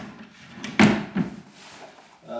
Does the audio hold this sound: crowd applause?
no